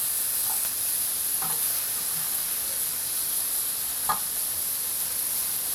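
Bacon sizzles in a pan while making burgers at home, a steady, close hiss and crackle with occasional faint pops and a light stir, with no voices.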